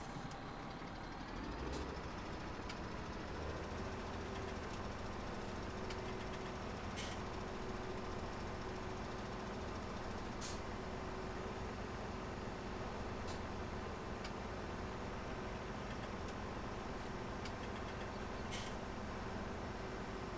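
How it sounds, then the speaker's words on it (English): A tractor engine drones steadily in the video game Farming Simulator 17, a constant low rumble with faint intermittent beeps and clicks on top. "we already have another tractor coming here"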